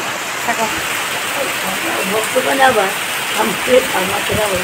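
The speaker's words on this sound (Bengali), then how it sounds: "আবার ঝমঝম করে বৃষ্টি হচ্ছে।" Heavy rain pours down in a steady hiss on a Rath Yatra festival day while people talk nearby over it.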